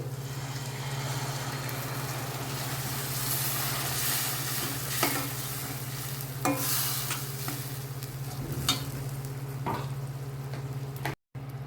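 Fish curry masala frying in oil in a pan until the oil rises, a continuous close sizzle with occasional stirring scrapes and clinks over a steady low hum, no talking.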